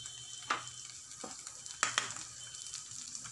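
Onions fry in a pan for pav bhaji with a soft, steady sizzle, broken by a few quick scrapes and clinks of a spoon stirring them. The sound is close and fairly quiet, with no voices.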